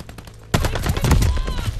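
Rapid automatic gunfire in Call of Duty: Vanguard erupts suddenly and loudly after a quieter lead-in, a dense stream of close shots with ringing tails and a bright whine running under it.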